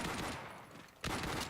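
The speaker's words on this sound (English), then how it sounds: "He's just been struggling, but he does manage to get Nils down with a headshot with the pistol." Rapid gunfire in a multiplayer shooter match at a manor house map, with pistol and carbine shots crackling in close bursts that briefly dip and then resume loudly.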